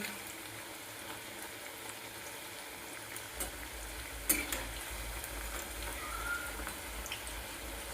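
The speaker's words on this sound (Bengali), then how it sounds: "আরও একবারই এরকম ভালো করে লাল লাল করে আমি পাঁপড়িগুলো ভেজে আনবো।" Papdi frying in hot oil for a chaat, a soft steady crackle of oil throughout with a few brief sharper pops, moderately faint and close, with no talk.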